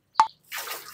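Water from the outlet of a Wirtz spiral water pump, raised about two to three meters, lands with one sharp close drip followed by a short soft splash and spatter.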